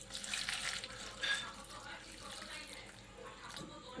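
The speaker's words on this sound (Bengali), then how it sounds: "জল দিয়ে দিচ্ছি," Water poured over tamarind in a bowl while making a tamarind pickle, a soft continuous splashing and trickling close by, fairly quiet and steady for the whole stretch.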